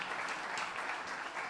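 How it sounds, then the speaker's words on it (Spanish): An audience at a conference on extended producer responsibility applauds to welcome a speaker, a steady, dense clapping that runs throughout at moderate volume with no talk over it. "vamos a recibir con unas palmas a Eduardo del Campo"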